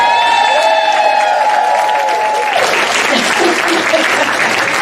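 A church congregation at a joint Sunday celebration breaks into loud, sustained applause. A held vocal tone comes just before it, and the crowd noise stays full to the end.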